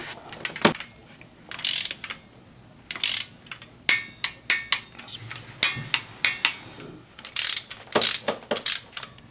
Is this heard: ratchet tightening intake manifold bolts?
yes